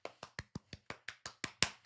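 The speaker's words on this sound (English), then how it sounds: "let's give you a round of applause" Eleven crisp claps from a single pair of hands in a steady, fairly quick rhythm, close and clear with no talking.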